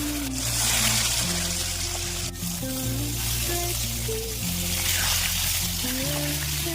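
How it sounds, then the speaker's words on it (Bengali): Fish fries in oil in a wok with a continuous, bright sizzling hiss. Tonal background music plays steadily underneath it. "তারপরে আমি কড়াই দিল তেল তেল দিয়ে এসব দিলাম মাছ"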